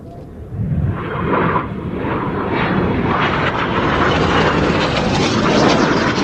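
Red Arrows jets of the Royal Air Force Aerobatic Team pass during a synchro double roll at an air show, a loud, swelling roar of jet engines building steadily and holding near its peak.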